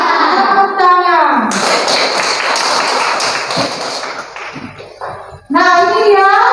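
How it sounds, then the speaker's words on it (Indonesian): A burst of children clapping together in a classroom for a few seconds, loud and dense, with kids' voices talking in Indonesian before and after. "Tepuk tangan."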